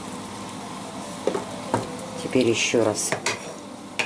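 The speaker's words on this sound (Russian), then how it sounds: "перемешиваю." Buckwheat with chicken in cream being stirred in a pan: a few scraping, clinking strokes of a utensil against the pan over a soft sizzle, close by, with a brief spoken phrase over it.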